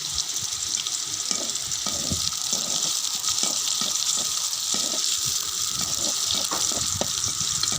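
Chopped onion and green chilies fry in oil in a village kitchen pan, a steady broadband sizzle with scattered clicks and stirring knocks, moderately loud and continuous with no talking.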